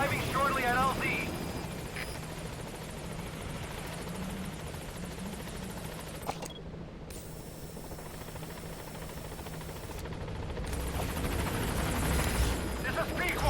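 Helicopter arriving at a landing zone in Metal Gear Solid V, a continuous loud rotor drone that fades briefly and then swells again, with game voices talking over it.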